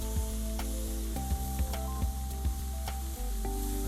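A marinated steak sizzles steadily on a grill, a loud continuous frying hiss with a few sharp clanks and scrapes as it is flipped.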